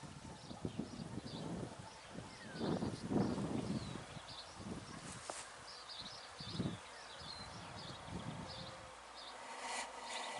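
Honey bee flying near blooming quince at a spring apiary, faint intermittent buzzing passes against quiet outdoor ambience with rustling and distant birds.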